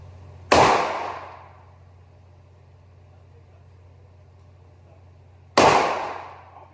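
Two loud gunshots ring out at an outdoor shooting range, about five seconds apart. Each is a sharp crack with a decaying echo over a steady low engine-like hum.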